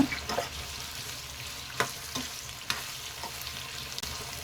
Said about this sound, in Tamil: இப்போ நம்ம வாழைக்காயை ஒரு முக்கால் வேக்காடு வறுத்து எடுக்க போகிறோங்க